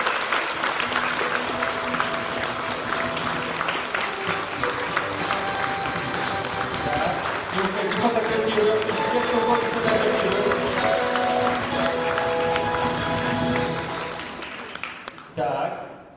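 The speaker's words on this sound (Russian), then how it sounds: "И вот сейчас бурные аплодисменты." Loud, sustained applause from an audience at an award ceremony for a sports competition in Arkhangelsk, steady clapping for about fourteen seconds before fading out abruptly.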